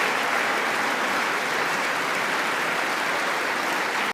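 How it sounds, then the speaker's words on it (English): A large room full of standing audience members applauds at an award ceremony, a dense, steady wash of clapping held at constant loudness throughout with no voices. "They're like all standing up and they're applauding this dude."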